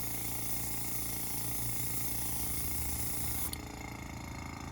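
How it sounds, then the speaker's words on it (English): An airbrush test spray of Mahogany paint: a steady, close, even hiss of air and paint that runs for several seconds and then cuts off sharply, with a fainter hiss continuing afterward. "do a little test spray"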